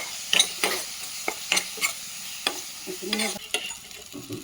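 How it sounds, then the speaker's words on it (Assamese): Turmeric and spices sizzle in hot oil while a spoon scrapes and stirs the pan in several sharp, quick strokes, close by and fairly quiet, while cooking mustard fish curry. "এইখিনি মই ধুনীয়াকৈ ভাজি ল'ম"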